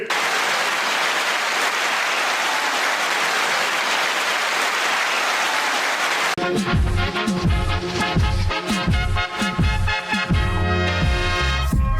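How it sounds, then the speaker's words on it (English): About six seconds of loud, dense clapping and cheering, then it cuts abruptly to rhythmic music with a steady beat. "9-second applause to you"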